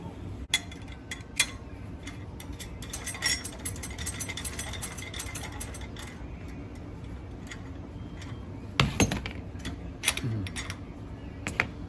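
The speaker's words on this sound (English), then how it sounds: "This tool is going to be a 3/8 impact, and then we can just slowly loosen this, loosen the compression" A 3/8 impact tool slowly loosening the clutch compression on a RZR Pro R four-cylinder clutch kit, heard as soft ratcheting ticks and metallic clinks with a louder, brief burst near the end.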